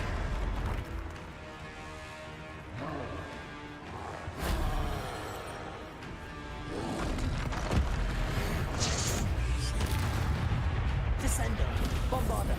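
Fire spell effects in the Hogwarts Legacy video game, with loud bursts and whooshing blasts in a busy battle mix, a player talking over the action.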